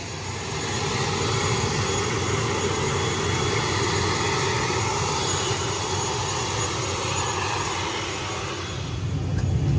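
An ATR 72 turboprop airliner sits on the apron, its engine a loud, steady broadband roar and hum that holds constant throughout with no talk over it.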